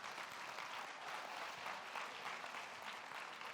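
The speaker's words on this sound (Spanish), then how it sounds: "Un aplauso para él." Faint, steady applause from an audience at an educational talk on inclusive education and school leadership, a continuous wash of clapping heard at a distance with no voices over it.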